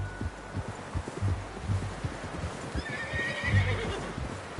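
A horse in the Red Dead Redemption 2 video game whinnies while its hooves clip-clop in a steady rhythm nearby, loud and close with rustling in the background.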